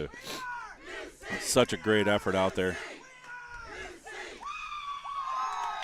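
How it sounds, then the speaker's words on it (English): A crowd of team members shouts and cheers loudly at a collegiate archery target championship after the final, while someone speaks over the noise. "And you can hear the cheering in the background from your fellow team members."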